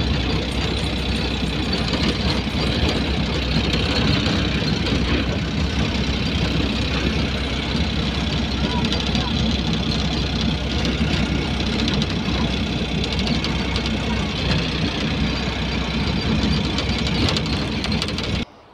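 A vehicle engine drones steadily and continuously during a ride, a loud, even rumble with road noise and no talk, cutting off abruptly at the very end.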